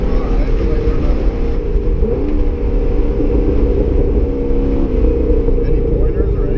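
Chevrolet C6 Corvette Z06 lapping a race track, a loud, steady in-cabin engine rumble with slight rev changes, people talking over the drone.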